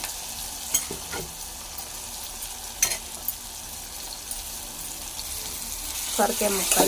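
Bottle gourd pieces tipped into a hot pan with ginger-garlic paste and stirred, giving a steady sizzle with scattered spoon scrapes and clatters, somewhat louder stirring near the end.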